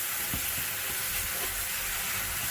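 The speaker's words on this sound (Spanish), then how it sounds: "Voy a revolver esto." Salsa ingredients are stirred in a hot pan just after the flame is turned off. A steady, close frying sizzle fills the whole stretch, with soft scraping strokes of the stir underneath.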